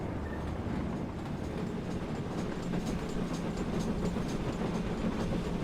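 A model coal tank locomotive pushes a short auto train from the rear, giving a steady rolling rumble with rhythmic rail clicks, close and continuous, with no talking.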